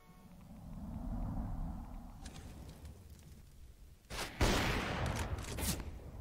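AWP sniper rifle fire in a Counter-Strike: Global Offensive match on the snowy map Snow Sweet Snow 3: a faint, low game rumble, then sharp, loud broadband cracks bursting out in quick succession near the end.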